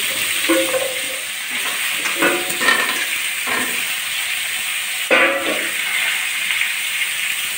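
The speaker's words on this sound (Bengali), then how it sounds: "তার জন্য তেজপাতা ফোড়ন দিচ্ছি তেলের ভিতরে, দিয়ে আলুগুলো ছেড়ে দিচ্ছি" Potatoes dropped into hot oil with a bay leaf tempering, a loud close sizzle and hiss with bursts of crackle and spatter as pieces go in and are stirred.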